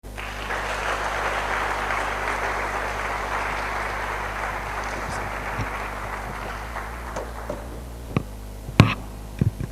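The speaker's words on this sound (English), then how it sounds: "Can we please give him another round of applause?" An audience applauds after a poem reading at a Nigerian book presentation, steady sustained clapping that fades out over several seconds and leaves a few scattered claps and knocks.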